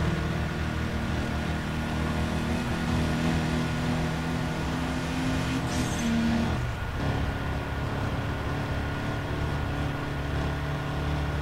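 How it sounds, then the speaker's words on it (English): A muscle car engine in the racing game Need for Speed Undercover drones steadily and loudly throughout, holding a constant pitch with a brief dip near the middle. No talk is heard over it. "Ooh, dude, this car is fast as fuck. I love this thing. I love me a good old-fashioned muscle car."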